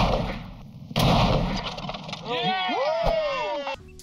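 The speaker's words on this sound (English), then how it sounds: "a customer brought Rick an 1890 Hotchkiss 2-pounder cannon that an expert and cannon restorer checked out and later even tested at the shooting range." An 1890 Hotchkiss 2-pounder cannon fires at a shooting range, a loud, sharp close blast with a rolling boom, heard alongside other noises and background sounds.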